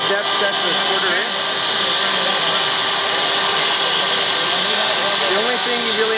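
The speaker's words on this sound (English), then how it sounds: "I'm going to turn on the router." A Shaper Origin handheld CNC router runs steadily at a trade-show demonstration, a loud continuous motor whine holding level throughout with busy crowd noise and talk mixed underneath.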